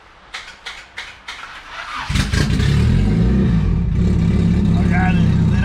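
A turbocharged Honda D16 engine in an EF hatchback with a GTX3576R turbo, started for the first time: several spaced cranking bursts under voices, then it catches and roars up loud, revving and settling into a rough, steady run.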